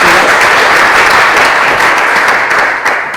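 Loud, dense audience applause at a game contest finale in Lubumbashi, a steady wash of many clapping hands that carries on throughout and tapers slightly at the end.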